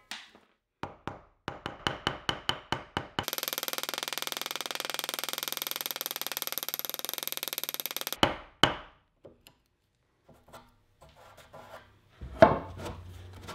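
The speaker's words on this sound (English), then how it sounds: "I'll use a jigsaw, a small back saw, and a sharp chisel" Hand tools trim wooden tenons for a dining table: a run of sharp, evenly spaced taps, then a long steady sawing stretch from a small back saw, followed by scattered knocks and scraping from a chisel, close and clear.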